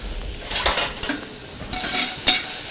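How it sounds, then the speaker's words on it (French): Chopped onions sizzling and being stirred in hot olive oil in a small pan in a restaurant kitchen, a steady close fry with a few utensil scrapes and clicks, no talking. "on fait revenir un petit peu les petits oignons"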